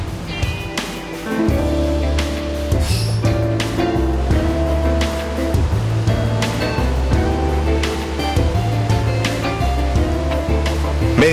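Sea waves roll in at Zorritos beach in Tumbes, Peru, a loud continuous surf wash with a steady low rumble and recurring surges, heard alone without talk.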